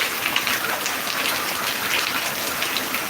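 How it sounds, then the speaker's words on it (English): Heavy rain pours steadily and loudly throughout, a dense continuous hiss of drops striking surfaces with no voices over it. "The rain is much."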